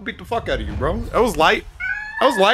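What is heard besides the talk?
cat meowing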